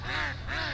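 Muscovy ducks on a lake give two loud, close, drawn-out calls with a brief gap between them, with no talk over them.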